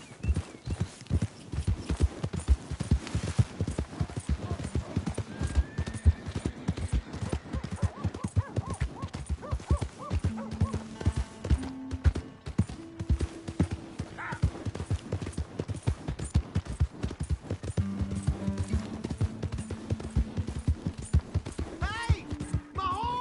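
Horse hooves clip-clop steadily and continuously at a brisk pace, fairly close, with occasional faint tonal sounds in the background.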